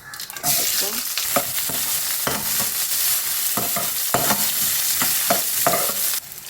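Two large chopped onions with cumin and dried chillies frying in a pan, a loud continuous sizzle broken by repeated stirring scrapes, close and without talk.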